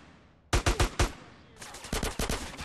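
Gunfire in Grand Theft Auto San Andreas cracks out in two bursts, first a few sharp, loud shots, then after a short pause a faster string of slightly softer rounds, with no talk over it.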